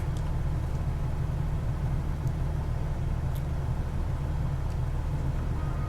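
Piston engine of a Trinidad TB-21 light airplane in Microsoft Flight Simulator, flying a landing pattern toward Big Bear. It gives a loud steady low drone throughout, with faint high clicks and no talking.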